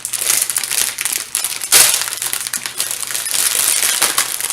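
Plastic packaging around a 16-inch Pizazz hair bundle being handled, close loud crinkling and crumpling in irregular bursts.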